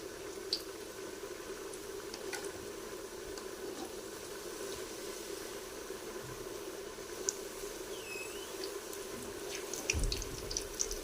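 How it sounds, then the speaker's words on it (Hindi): Puris frying in hot oil, a soft, steady bubbling hiss at low level with faint pops and light clinks throughout, close by and without any talk. "ऑयल हमारा अच्छे से गर्म हो चुका है। तो अब हम इसमें अपनी पूड़ी को डालेंगे।"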